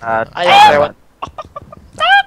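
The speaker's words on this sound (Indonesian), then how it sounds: "Ayam lewat." A chicken passing close by gives a few loud squawking clucks, then a string of short clucks, and ends with one more squawk.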